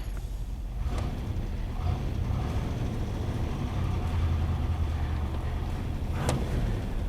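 A 1960 Corvette engine idling steadily after starting, a low continuous rumble heard up close and fairly loud, with a couple of faint clicks over it.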